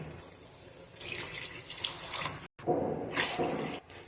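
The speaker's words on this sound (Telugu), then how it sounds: "ఇప్పుడు 4 గ్లాసులు వాటర్ వేసుకోవాలి." Water splashes steadily into a cooking pot of rice for moong dal khichdi for a few seconds, pauses briefly, then pours again, a close, hissing, bubbling stream with no voices.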